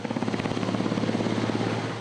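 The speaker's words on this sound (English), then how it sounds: "Army Blackhawks lifted supplies to cut off communities that are safe but running low on food and water." An Army Black Hawk helicopter flies during flood relief, its rotor blades beating in a fast, steady thump over a constant engine drone, loud and fairly near.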